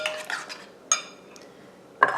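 A spoon scrapes and clinks against a dish while casserole sauce is mixed, in a few bright metallic bursts with softer scraping between them, close up and with no talking.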